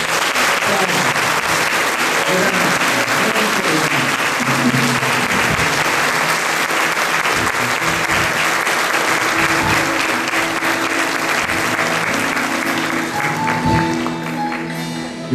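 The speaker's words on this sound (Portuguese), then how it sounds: "Aplauda esse Deus maravilhoso" A parish church congregation in Brazil applauds during a Catholic prayer service, loud sustained clapping from many people that continues steadily throughout.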